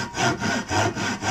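A large Kaufland Ryoba Japanese saw worked two-handed rasps through wood in about five quick, even strokes, close and clear with no talking.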